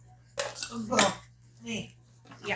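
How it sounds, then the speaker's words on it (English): A dry mixing bowl for making bath bombs is set down on a table with a few sharp clinks and knocks, while a person talks over them. "So let me just set up here our dry working bowl"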